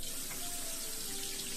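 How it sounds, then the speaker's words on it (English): Water runs from a tap in a Titanic cabin, a steady close hiss and splash with a faint tone under it. "Running water"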